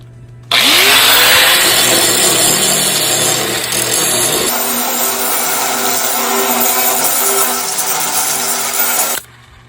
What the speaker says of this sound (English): So I'm gonna grind it back down smooth